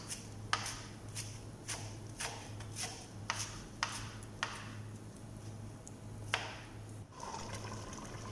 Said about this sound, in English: And now we have to chop our spinach, our palak.